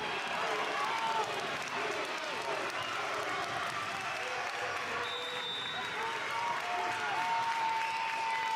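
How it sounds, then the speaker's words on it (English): A high school volleyball crowd at a regional final between Aplington-Parkersburg and Riverside applauds and cheers for the Falcons, a steady wash of clapping and voices from a packed gym heard from a distance. "AP crowd comes to their feet in support of the Falcons"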